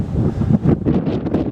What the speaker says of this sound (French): Alors en plein vent malheureusement